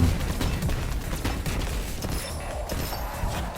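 Hand cannon gunfire in Destiny 2, dense overlapping shots and impacts in a busy firefight, loud and continuous throughout with no talking.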